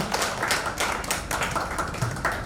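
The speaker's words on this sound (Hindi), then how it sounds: "सो उनके लिए जोरदार तालियां आप बजाइए।" Audience at an Arthritis Day 2021 event applauding, a dense patter of many hands clapping together at steady strength for a couple of seconds, with no talk over it.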